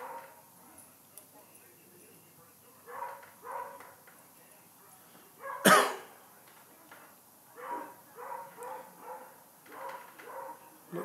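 Hunting dogs bark and yip outside at night at a distance, a series of faint, scattered barks with one sharper, louder bark in the middle.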